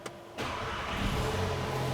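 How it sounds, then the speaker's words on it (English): A VW MK8 Golf R with a 1.8T engine cranks and fires up after a quiet moment, the starter catching into a loud, steady idle that settles into a low, even hum close by, with no talking. "to save that map or select that map, you just dab the brake and then you can start the car"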